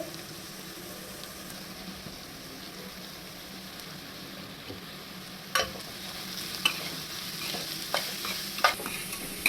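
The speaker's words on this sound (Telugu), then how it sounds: "క్యాబేజ్ తురుము, క్యారెట్ తురుము అన్నీ ఇలా వేసేసుకొని మొత్తం తిప్పేసుకుందాం" Grated cabbage and carrot stirred in a pan for veg momo filling, a low steady sizzle under scattered scraping clicks from the spatula that grow more frequent toward the end, no talking.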